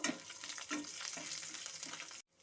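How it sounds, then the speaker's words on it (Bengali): Garlic cloves sizzle and crackle in hot oil with occasional stirring scrapes, steady and close, cutting off abruptly near the end. "রসুনের কোয়াগুলোকে একটু ভাজা ভাজা করে নেব।"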